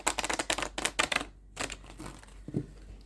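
A deck of sticky tarot cards tapped and riffled, a quick run of sharp clicking taps followed by a pause and a few softer taps, close and dry.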